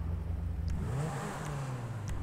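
Car engine in GTA 5 revving with a steady low drone that rises in pitch midway and holds, a continuous mid-level engine tone throughout.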